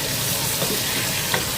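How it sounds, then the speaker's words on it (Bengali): Tomato tossed into a pan of fried onions makes a steady, close sizzle and crackle of frying with faint stirring, unbroken and fairly loud, with no voices. "পেঁয়াজটা ভাজা হয়ে গেছে, এখন আমি এখানে একটু টমেটো দিয়ে দেবো"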